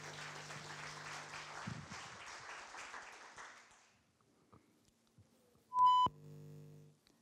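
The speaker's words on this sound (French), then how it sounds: "un tonnerre d'applaudissements pour Sandrine de Tente" Audience applause for a speaker at the 2014 ULB "Ma thèse en 180 secondes" contest, a broad wash of clapping that fades out after about four seconds, followed by near silence and a short electronic tone.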